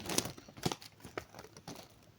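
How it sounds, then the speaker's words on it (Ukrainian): Adhesive tape is handled close up in short, irregular bursts of crinkling and sharp tearing or peeling, with quiet rustling between the louder crackles. "Знайшла я скотч. Зараз будемо клеїти."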